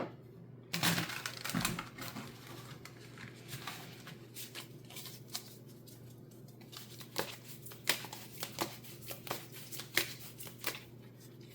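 Oracle cards shuffled for a tarot reading, with a steady run of close, papery riffles and slaps that grow busier toward the end, with no talking.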